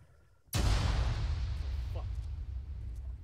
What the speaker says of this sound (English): I think that might have been Leonard running over Bubba's mine.